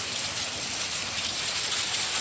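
Hail falling on a rain gutter during a storm, a dense, steady drumming patter that stays even and continuous throughout, with no voices.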